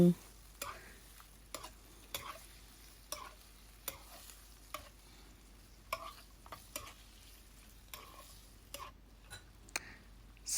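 Squid and seasoning are stir-fried in a pan, with a soft sizzle under regular scraping and clacking of a utensil against the pan, the strokes coming every second or so.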